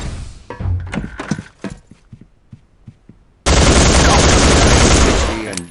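An emplaced machine gun in the PC game Soldier of Fortune II: Double Helix starts with scattered heavy thuds, then breaks into a sustained, very loud burst of continuous automatic fire.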